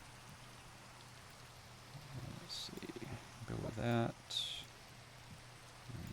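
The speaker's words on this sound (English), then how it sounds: "starting to rain on us" Steady rain falling in the Minecraft video game, a soft continuous hiss running throughout, briefly overlaid by a person speaking.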